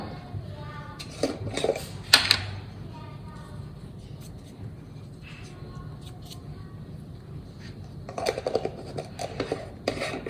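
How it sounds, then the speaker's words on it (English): Sauce whisked in a pot on the stove for sour cream chicken enchiladas, with light scraping and metal clinks of the whisk against the pot, coming in bursts at the start and end over a low steady background. "just going to continue whisking this until it comes to a simmer and starts to thicken"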